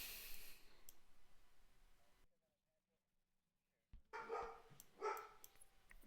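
A dog barks in short bursts in the background of a home room, with the sharp yaps clustered near the end after a brief quiet gap.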